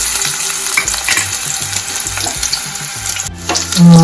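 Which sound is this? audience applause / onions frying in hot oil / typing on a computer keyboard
onions frying in hot oil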